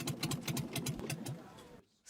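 A small migrant boat's outboard engine runs at night on the Aegean Sea, a steady close chugging with rhythmic pulses that suddenly cuts out, leaving near silence before a brief new noise.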